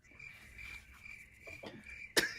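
A cricket chirping sound effect is played during a sports podcast: a steady, high continuous trill, fairly quiet, ending with a sharp, louder click.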